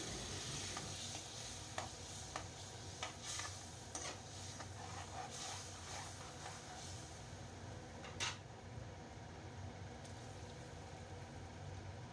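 Steady frying sizzle with repeated scraping and clicking as curry leaves and potatoes are stirred around a frying pan, close and continuous, no talking.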